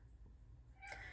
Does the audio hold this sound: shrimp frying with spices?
no